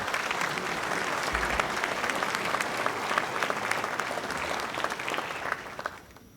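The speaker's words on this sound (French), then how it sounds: "je crois que nous pouvons applaudir cette association" Sustained applause from a crowd at a municipal New Year's greetings ceremony in Hayange, a dense, steady clapping that fades out toward the end.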